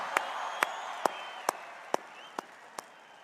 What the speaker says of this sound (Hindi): तो एक बार अपने लिए ताली बजा दीजिए